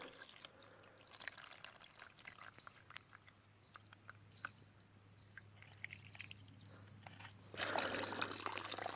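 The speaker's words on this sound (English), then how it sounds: "I'm probably gathering about a gallon of water to get me through tonight and tomorrow" Water from a stream is gathered into containers on a hike, with soft trickling, dripping and small splashes close up that swell into a louder, steadier pour near the end.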